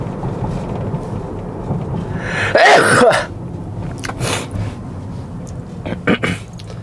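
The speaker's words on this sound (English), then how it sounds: "I'm about to sneeze." A single loud sneeze bursts out near the middle, preceded by a short breath, with quieter breathing and faint background noise around it.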